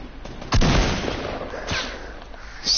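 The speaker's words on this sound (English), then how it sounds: "you need to start shooting your AR, because I've only got 10 bullets left on it" Assault rifle fire in a shooting video game: a couple of sharp, loud gunshot bursts cutting through a dense, noisy game backdrop, with a fainter crack near the end.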